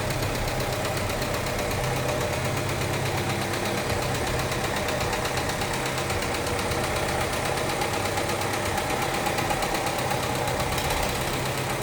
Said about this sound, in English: This is considered a Comanche, it looks like, engine. Comanche inline 4-cylinder.